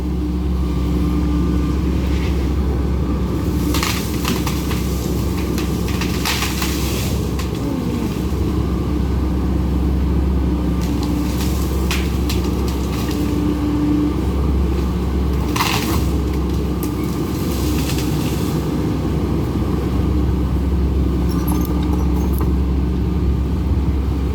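A Kobelco SK140LC Super XM excavator with a newly rebushed bucket clears forest land in southern Thailand; a steady, loud engine rumble runs throughout, with repeated crunching and cracking bursts of breaking vegetation and wood.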